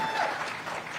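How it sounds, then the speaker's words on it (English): Brief burst of audience applause at a Kwanzaa kinara lighting event in Detroit, steady clapping from a crowd with a faint voice briefly audible over it. "Another round of applause"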